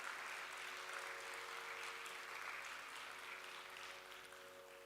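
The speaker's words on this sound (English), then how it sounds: "Let's have a huge round of applause for Ahana" Steady applause from an audience follows a Bharatanatyam arangetram dance performance, sounding faint and distant, continuous for about five seconds with a slight fade at the end.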